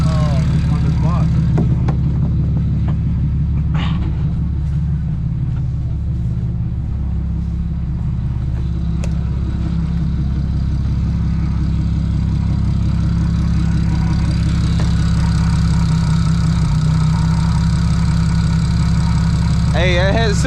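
A single-turbo BMW 335 engine idles after starting, with a steady low rumble and drone close to the mic. A few faint clicks and knocks fall over the idle.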